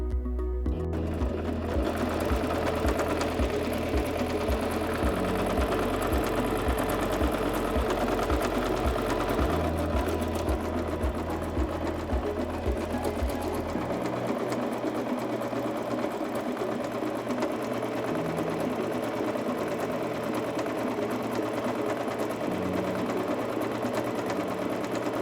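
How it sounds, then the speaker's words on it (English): Singer C5200 sewing machine stitching a buttonhole, a close, steady rapid mechanical whir with a rhythmic stitch beat that changes speed partway through. "Step on the foot control to start sewing and sew until the buttonhole is finished"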